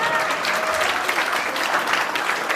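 An audience at a village concert by a youth ensemble of Armenian national instruments gives sustained, dense applause, even and continuous throughout.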